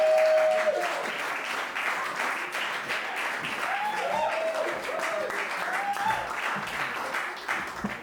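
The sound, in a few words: audience applause for a comedian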